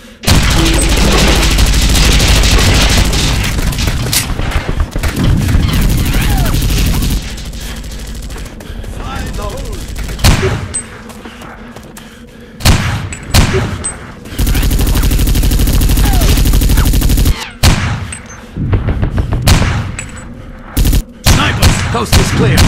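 Bursts of gunfire and sniper shots in the PC shooter Bet on Soldier, loud and sustained in stretches with pauses between volleys and sharp single cracks, with faint voices at times.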